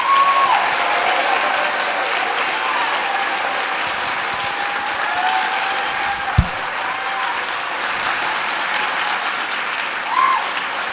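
Sustained applause from a large college convocation audience fills a hall, steady and broad throughout, with a faint tonal whistle and a brief thump partway through.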